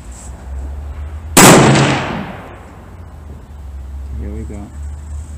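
A single loud rifle shot from a Savage 111 LR Hunter in 7mm Rem Mag with the muzzle brake off, a sharp blast fading into a long echo over steady outdoor background hum.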